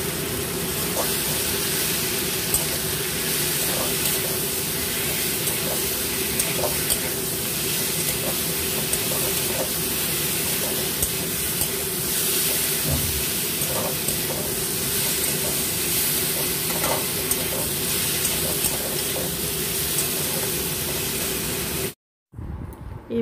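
Fried pieces of kakrol (spiny gourd) are added to a well-cooked spice paste in a pan, producing a loud, continuous hissing sizzle that holds steady for the whole stretch and then cuts off abruptly near the end.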